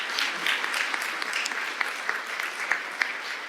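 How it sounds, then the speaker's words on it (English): An audience at a symposium claps for a panel, a sustained round of dense applause with a few sharper claps standing out, steady from start to finish. "Let's give them another round of applause."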